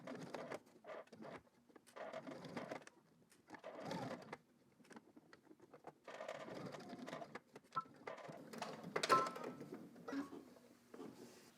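Sewing machine stitching a polo shirt, running in several bursts of steady mechanical whirring separated by short pauses, close by and fairly quiet.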